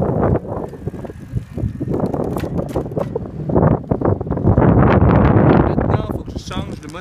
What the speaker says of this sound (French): il faut que je change les vitesses avec cette main